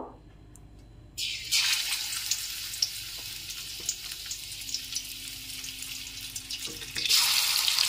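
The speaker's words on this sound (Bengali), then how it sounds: "এখন তেলটা গরম হয়ে গেছে। এবার আমি এক এক করে মাছগুলো দিয়ে ভেজে নেব।" Tilapia pieces frying in hot oil: a quiet start, then a loud, steady sizzle bursts in and holds, swelling again near the end, with no voices.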